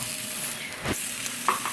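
Canned diced green chilies hit a hot pan of zucchini and sizzle with a steady, close frying hiss, broken by a brief stirring scrape partway through.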